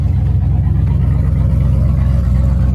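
A 1955 Buick with a Nailhead V8 idling while warming up, an engine being checked for overheating; a steady, loping low-pitched rumble with an even pulsing beat, close and loud, with no talking.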